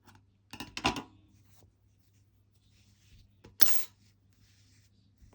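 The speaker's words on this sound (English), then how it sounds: "snip off your yarn" Scissors snip crochet yarn up close, a quick cluster of sharp cuts near the start and one louder snip later, separated by quiet handling sounds.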